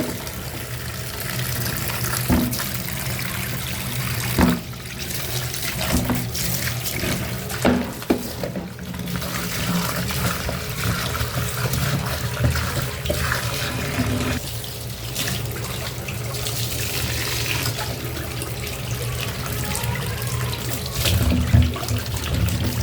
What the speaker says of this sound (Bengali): আমরা এখন এগুলি ধুয়ে নেব, ধুয়ে তারপর